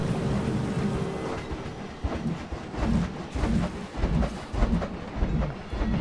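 A roller coaster train in the Planet Coaster video game rumbles past, heavy clattering wheels and rolling thunder-like surges that swell and fade in a rhythmic, close pass.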